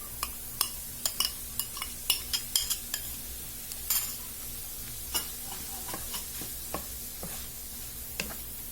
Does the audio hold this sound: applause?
no